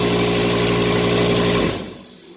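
A Graco drywall texture sprayer's motor hums steadily with a buzzing mechanical drone, then winds down and cuts off after about two seconds.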